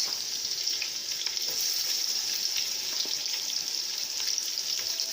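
Onions frying in oil for Bangladeshi plain pulao, a steady close crackling sizzle with occasional stirring scrapes, no voices.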